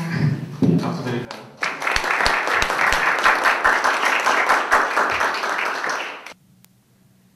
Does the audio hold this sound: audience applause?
yes